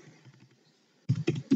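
Keystrokes on a computer keyboard as a chart title is typed: faint soft taps at first, then a quick burst of several louder, crisp clicks close by.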